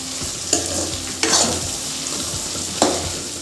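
Capsicum stir-fried in a pan for vegetable chowmein, with a steady sizzle underneath and three sharp scrapes of a spatula against the pan spaced a second or so apart, close and fairly loud, no talking.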